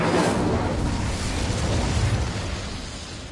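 Incendio fire spell in the video game Hogwarts Legacy, a loud close whooshing blast of flame that hits at once and slowly fades over a few seconds.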